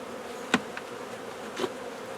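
Honeybees on a hive frame feeding on pollen, heard as a faint, steady insect hum with a couple of brief, close buzzes as single bees pass near.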